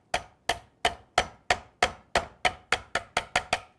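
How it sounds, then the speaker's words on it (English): A hammer gently taps a bracing pad into position on an electric motor, eleven crisp, close metallic knocks at a steady, slightly quickening rhythm, each decaying quickly into silence. "We're just going to set it on top and very gently with the hammer, just tap it into position."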